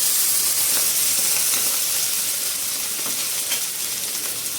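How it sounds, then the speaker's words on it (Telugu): Fish pieces coated in salt, chili and masala sizzle loudly and steadily in a hot pan as the second side fries, with a dense, continuous crackle throughout and no talking. "ఇప్పుడు ఇంకొక సైడ్ కూడా నేను ఫ్రై చేస్తున్నాను"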